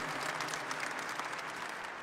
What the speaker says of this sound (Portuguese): uma salva de palmas ao devoto de Nossa Senhora Aparecida pela demonstração